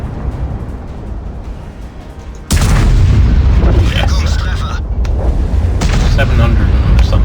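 A Grille 15 tank destroyer's gun fires in World of Tanks, one sudden heavy boom that breaks through the battle ambience, followed by a sustained loud rumbling tail and fainter mechanical noise.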